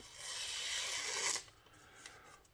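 A toothy-edged Vosteed Valkyrie folding knife with black Micarta handle and Nitro-V blade slices through material with a loud continuous rasping scrape, then a few fainter scratchy strokes.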